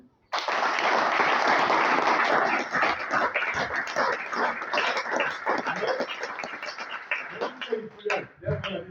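A church congregation breaks into sustained applause, loud, dense and close, continuing for several seconds before thinning into scattered claps near the end, with voices mixed in.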